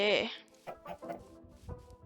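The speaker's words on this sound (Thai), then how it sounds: "มีแต่ไก่นะที่ผมเห็น ไก่แล้วไก่" Chickens cluck in the video game Minecraft, a loud squawk at the start followed by several softer, scattered clucks close by.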